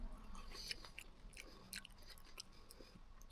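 Someone chews crunchy Cheetos coated in cheese sauce, close and quiet, with a steady run of crisp bites and crunches and no talking.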